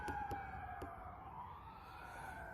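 A faint emergency vehicle siren wails steadily in the distance, heard outdoors at a shooting range behind a few sharp clicks.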